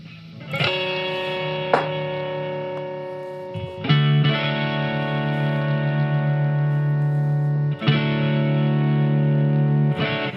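A thick, distorted synth tone from a Helix Stomp XL preset, slightly overdriving a Focusrite interface, holds sustained chords with a few abrupt changes, loud and buzzy throughout, with no voices.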